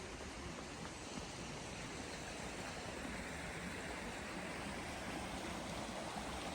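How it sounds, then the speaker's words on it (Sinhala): Stream water rushing steadily beneath Davenport Bridge in Mount George Conservation Park, South Australia, a continuous even wash of flow, quiet and unbroken, with no voices. "මේකේ වතුර සද්ද තමයි අපිට උඩටත් ඇහුනේ."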